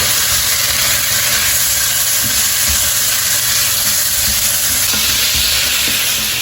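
Fish frying in a pan gives off a loud, steady sizzle and hiss from start to finish, with a low rumble underneath and a few soft clinks in places.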